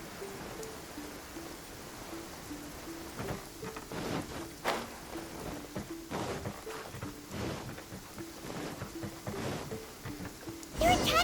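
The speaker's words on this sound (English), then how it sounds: "It is something of a luxury, but I love listening to the rain from the courtyard." Rain patters continuously in a courtyard in Genshin Impact, with a steady hiss beneath recurring softer tones and thuds, and a sharper burst near the end.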